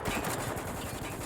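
Rapid automatic gunfire rattles in the video game Spec Ops: The Line, a dense burst of close, loud shots firing without pause.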